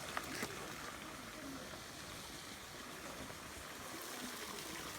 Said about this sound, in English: keep letting the water run till you hit clear